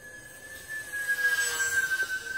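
An E-flite Aero Commander UMX model airplane flies at a distance in wind, its electric motor giving a thin, steady high whine that rises and falls slightly over faint background noise.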